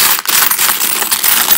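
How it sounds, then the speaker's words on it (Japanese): A handful of pre-euro foreign coins from various European countries, collected on a 1995 trip, jingle and clink while being handled. The metallic rattling is close and fairly loud and continues steadily for the whole moment. "各国の小銭ですね"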